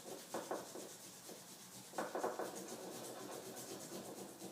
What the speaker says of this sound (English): I like it instead of a metal grater. It works much better for things like ginger.